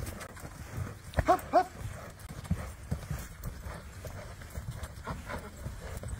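A horse's hooves clip-clop on the ground during a training session, with a couple of louder strikes early on, then softer irregular steps over background noise.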